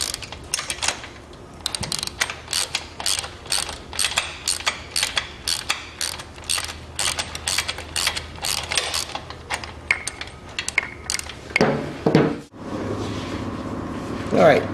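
A hand ratchet with a deep 11/16 socket clicks in fast, repeated strokes, backing motor mount nuts off a GlidePro motor mount install; the loud, rhythmic ratcheting runs nearly the whole time before a pause and shuffling at the end.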